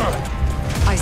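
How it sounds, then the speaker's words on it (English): A grappling hook mechanism fires in Call of Duty Black Ops 6, a dense close burst of metallic clanks and rattling throughout the brief moment. "A grappling hook."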